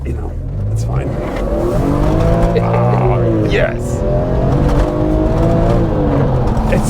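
BMW M3 with an S54 straight-six engine revving hard, a loud raspy snarl that climbs and falls through several pulls, with people talking over it.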